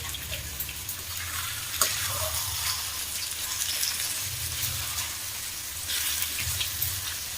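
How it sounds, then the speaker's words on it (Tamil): Dried fish (karuvadu) fries in a pan for karuvadu thokku, a steady sizzle with soft crackles and a brief clink, continuous and close with no voices. "இப்போ கருவாடு நல்லா வதங்கிட்டு இருக்கு"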